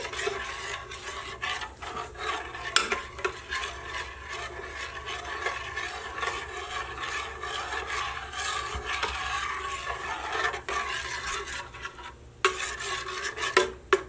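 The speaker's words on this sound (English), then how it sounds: "we'll mix that real well so it's all combined together nicely" A spoon scrapes and stirs through a thick no-bake peanut butter oatmeal cookie mixture in a bowl, with continuous close rubbing and clinking strokes throughout.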